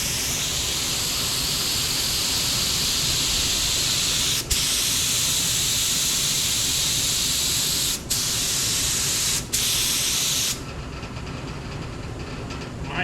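Primer spraying onto the repaired trunk of a 1969 Dodge Charger R/T, a steady close hiss of the spray gun that runs continuously, broken by three brief pauses before stopping near the end.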